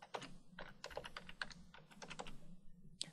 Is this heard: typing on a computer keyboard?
yes